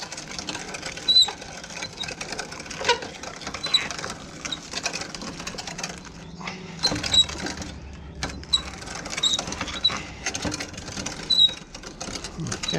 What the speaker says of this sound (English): hand cranked mincer